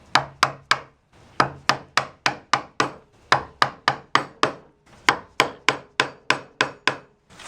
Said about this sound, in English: Then I can guide the chisel down.